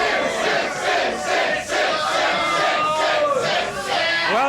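A live television studio audience at a 1987 debate show on homosexuality with the mayor of West Hollywood cheers and shouts loudly and continuously, a dense roar of voices swelling in waves with some sustained yells.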